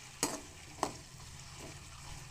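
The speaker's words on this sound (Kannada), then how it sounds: "ಇವೆರಡಷ್ಟು ಎಣ್ಣೆಯೊಳಗೆ ಫ್ರೈ ಆಗುತ್ತೆ" Carrots and potatoes frying lightly in oil in a pan: a faint, steady sizzle with two sharp clicks of a utensil stirring near the start.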